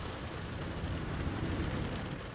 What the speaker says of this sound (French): La pluie, finalement, s'est mise à tomber.